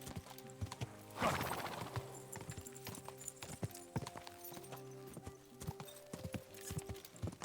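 Horse hooves clip-clop steadily in the video game Kingdom Come Deliverance 2, a continuous trotting rhythm with a brief neigh early on, set against a constant game soundtrack and ambient background.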